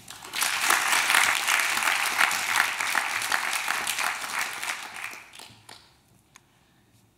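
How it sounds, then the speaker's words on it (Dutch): Warm audience applause for a poet at a poetry event, loud dense clapping filling the room for about five seconds, then thinning out to scattered claps and near silence. "Graag een warm applaus voor Hester Knibbe."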